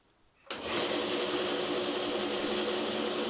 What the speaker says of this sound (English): let us switch on the bandsaw and see what happens